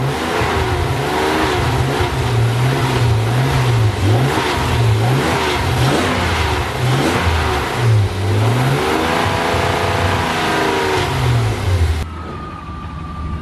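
A modified car, nicknamed the Cheeto, runs loud and close with its engine revving in repeated rising and falling bursts, a steady rough drone beneath, before it cuts to a quieter settle near the end.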